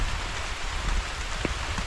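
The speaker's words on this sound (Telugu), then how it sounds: "వర్షం చాలా ఎక్కువైపోయింది, చాలా దారుణంగా ఉంది." Heavy rain pours down in a dense, continuous roar, with drops pattering close by, in a hillside valley.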